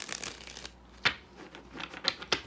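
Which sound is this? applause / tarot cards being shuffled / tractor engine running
tarot cards being shuffled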